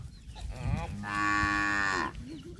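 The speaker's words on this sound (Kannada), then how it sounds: "ನಮ್ಮ ಕರು ನೋಡಿ ಅಂಬೋ ಅಂತೈತೆ" A calf gives one long, drawn-out moo, rising and holding for about a second, close by, with faint low rustling before it.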